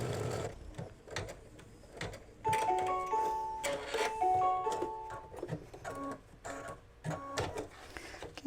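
A home embroidery machine stitches down a white fabric stripe on an in-the-hoop mug rug, its needle tapping in a steady rapid rhythm with tonal motor whines rising and falling, close and fairly quiet.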